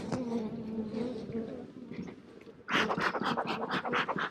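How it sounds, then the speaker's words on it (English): Bees swarming at an upset hive in a bee yard, with honey supers stacked nearby, buzz in a dense, steady drone that swells suddenly louder and busier partway through, close to the listener. "And there's bees in here and they are not happy at all."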